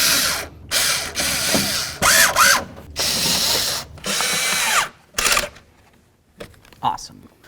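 A hand ratchet running bolts into the door panel of a 1988-2002 GMC Sierra 1500 pickup, rapid clicking bursts in several separate runs with short pauses between, close up, with someone talking in between.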